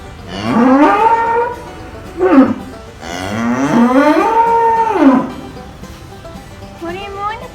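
A cow on a farm moos in long, drawn-out calls, loud and close, with a short bellow between them and a fainter low at the end, while a person talks around the calls.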